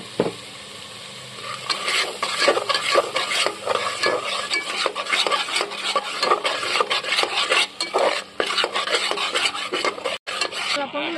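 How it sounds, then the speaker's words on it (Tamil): Small onions sautéing in a pan for a goat curry, a steady close sizzle under a busy rasping of a spoon stirring and scraping, repeated in quick irregular strokes throughout, with no talk. "சின்ன வெங்காயம் இதில் போட்டு வதக்கணும்"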